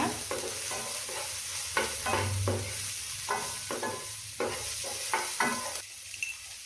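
Chopped onion sizzles as it roasts in ghee for soya kheema, a steady hiss with repeated stirring scrapes at a regular rhythm, close and moderately loud, no voices.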